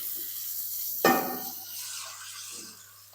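Two cups of water are tipped into a hot pan with a sudden splash that turns into a hissing sizzle, fading over the next couple of seconds.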